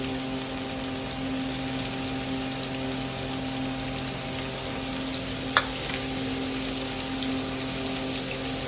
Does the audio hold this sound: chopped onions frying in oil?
yes